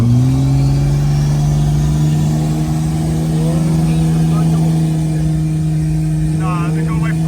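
A VL turbo car engine revs under load in gear, a loud, close, sustained drone that holds steady and climbs slightly in pitch throughout.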